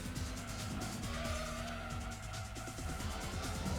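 Racing cars in Gran Turismo 2, including an NSX and a Subaru, with engines droning continuously and tires squealing through a contact moment; a steady, dense game mix without talk.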